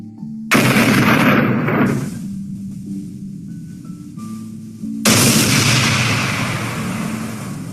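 Two loud, sharp blasts of firecrackers, each followed by a crackling, hissing tail, with a quieter pause between them.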